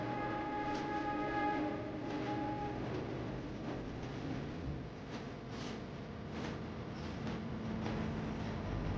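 The Hussain Sagar Express, running from Mumbai to Hyderabad, moves off from a station platform with a steady mechanical rumble and brief horn-like tones early on, then rhythmic clatter, heard alone at a moderate distance.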